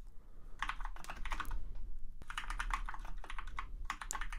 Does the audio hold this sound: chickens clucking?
no